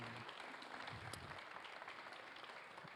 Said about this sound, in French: me rejoindre sur vos applaudissements plus que nourris